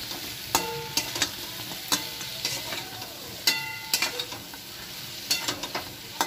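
Fried lentil fritters stirred into a sizzling spice masala, a steady fry hiss broken by repeated scraping and clinking strokes of the spoon against the pan, close and fairly loud.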